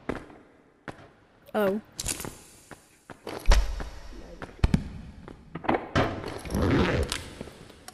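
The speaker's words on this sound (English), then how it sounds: "What was that delayed bomb?" A delayed bomb explodes in a video game, with several loud booming thuds and bursts scattered among smaller impacts, while people react vocally over the gameplay.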